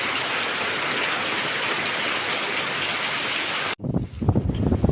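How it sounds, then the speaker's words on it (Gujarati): Heavy rain pours steadily on a peanut farm field as a dense, loud hiss. It cuts off abruptly near the end, and softer patters and splashes follow. "એ પણ તમે જોઈ શકો છો કેટલો જોરથી વરસાદ પડી રહ્યો છે"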